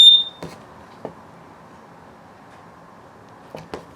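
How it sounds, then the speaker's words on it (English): A carbon monoxide and LP gas detector in a 2020 Flagstaff Super Lite 29BHS travel trailer gives one sharp, high beep during a test, followed by quiet handling clicks and taps. "your carbon monoxide LP gas detector is right here. Right? It also beeps."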